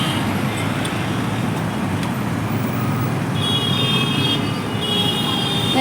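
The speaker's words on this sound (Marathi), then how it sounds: "इथं ट्रॅफिक झाली." Road traffic rumbles steadily near the Big Bazaar area, a loud, continuous wash of engine and tyre noise with passing vehicles and faint higher tones over it.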